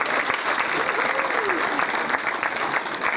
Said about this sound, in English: How about a nice applause for this lovely lady?